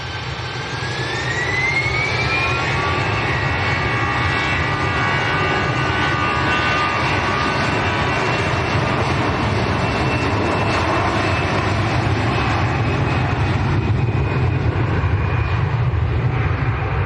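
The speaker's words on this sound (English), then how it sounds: "So Airbus A320." A 13-year-old Airbus A320 at Manchester Airport roars loudly with a continuous, powerful jet-engine rumble and a rising whine, sustained and close throughout without voices.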